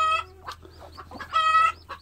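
Chicks peep at close range on a small farm, where one chick is unwell with a blocked vent. Several short, high, clear calls are followed by a longer sustained peep, with faint cheeping between them and no talk.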